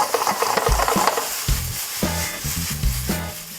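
A spatula stirs nasi goreng fried rice in a pan, giving a soft sizzle under repeated scraping and clattering strokes that come close and fairly loud.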